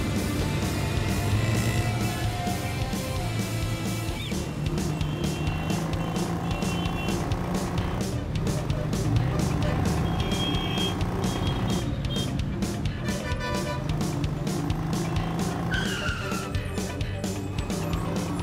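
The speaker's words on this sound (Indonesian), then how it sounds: "Jalanan terlalu macet." Busy road in a traffic jam, with cars and trucks idling and creeping along, a steady loud rumble of engines, beeping and a few horn-like tones throughout, and a faint voice now and then.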